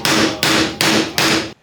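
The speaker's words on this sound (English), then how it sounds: "So we'll give them a little tiny tap." A small brass hammer taps a guitar fret four times in an even rhythm, each close, crisp, bright metallic strike ringing briefly before the next, with no voices.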